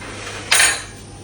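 A hot frying pan on low heat takes a knob of butter for cooking onions, giving one brief metallic clatter against near-silent background.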